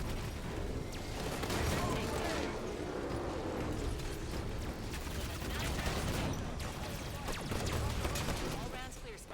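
Scorpion tank cannon fire in the Halo 5 video game, heavy booming shots repeating through a dense, continuous wash of battle noise and gunfire, loud and close throughout.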